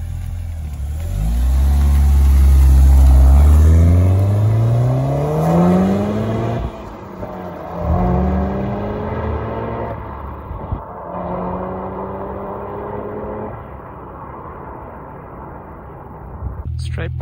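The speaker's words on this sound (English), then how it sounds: "EVO MR leaving the shoot" A Mitsubishi Evo 9 MR pulls away from a car photoshoot, its engine revving hard up through several gear-rising pulls, loud at first then fading into the distance, with voices talking over it.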